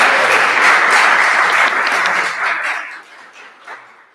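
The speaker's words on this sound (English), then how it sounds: "That's just such an easy way to get applause." Dense audience applause fills a free Wednesday concert hall at a college, loud and steady for about two and a half seconds before thinning out and fading, with a few scattered claps at the end.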